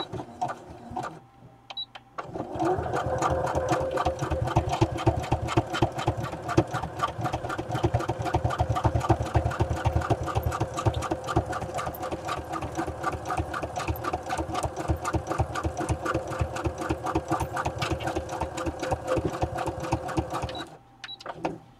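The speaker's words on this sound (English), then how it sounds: "just paying attention to where I'm sewing" A sewing machine runs continuously, sewing a zigzag stitch through material for a ring binder: a close, loud, evenly pulsing mechanical whir with a rapid needle chatter, starting after a brief pause and stopping near the end.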